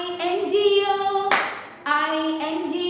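In a classroom rendition of the Bingo song, a single crisp clap from children's hands breaks the singing midway, with sustained sung notes before and after it.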